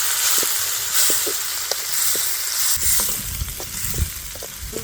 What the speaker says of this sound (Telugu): ఆనియన్స్ ఇట్లా బాగా కలర్ వచ్చేంత వరకు వేయించాక 2 టమాటాలు వేస్తున్నా